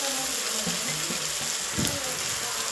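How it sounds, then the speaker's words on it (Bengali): Masala paste with added water hits a hot kadai for chicken curry, a steady hissing sizzle with faint scraping and a short bubbling burst midway. "মশলাটা কড়াইয়ে ঢেলে দিলাম।"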